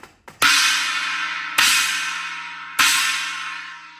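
China cymbal on a drum kit, hammered three times at roughly even intervals. Each crash is loud, trashy and close, decaying slowly before the next hit, with a couple of light taps just before the first.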